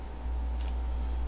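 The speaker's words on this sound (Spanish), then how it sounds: "le damos doble clic" A computer mouse double-click, two quick faint clicks close together over a steady background hum.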